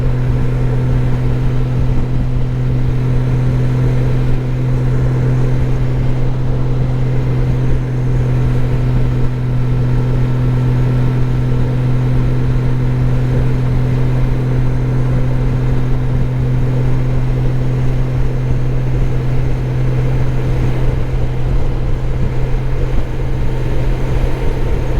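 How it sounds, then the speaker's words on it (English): An old Honda Goldwing motorcycle engine pulls hard up hills near Sturgis, a steady, loud low drone with strong constant harmonics, mixed with wind rush throughout, and no voices. "Got a serious pull for the old Goldwing here up these hills."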